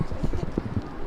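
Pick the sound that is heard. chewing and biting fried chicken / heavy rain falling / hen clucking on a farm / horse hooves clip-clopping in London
horse hooves clip-clopping in London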